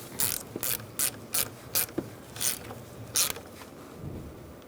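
A 10mm socket ratchet clicks in short repeated bursts while snugging a negative battery terminal on a 2002-2006 Honda CR-V, crisp and close with brief pauses between strokes.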